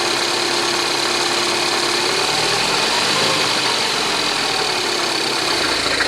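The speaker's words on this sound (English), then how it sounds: "let's get this engine fired up" A rebuilt Mini Cooper S engine running at a steady idle, a dense, even mechanical drone with a faint knocking texture, close and unbroken throughout.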